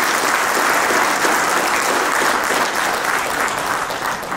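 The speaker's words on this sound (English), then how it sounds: "A huge round of applause for all of you." A ceremony audience at Oil India Limited's 65th Foundation Day applauds, a dense, steady round of clapping that holds loud and even throughout without voices above it.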